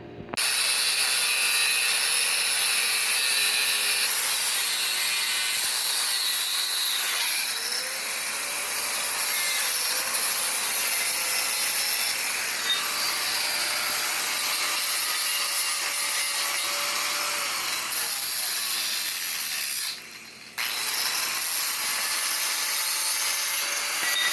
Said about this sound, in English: I'm going to cut it in half, get it ready.